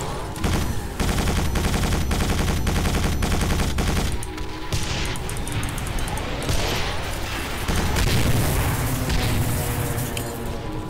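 The hover tank's machine gun in Quake 4 hammers out loud, rapid continuous bursts, its rattling fire mixed with booming impacts and explosions through a dense battle din.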